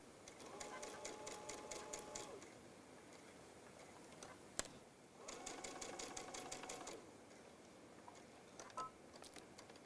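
Sewing machine stitching around the edge of a fabric basket, 1 mm in: two long bursts of rapid, steady stitching separated by a short pause with a sharp click, then a brief restart near the end.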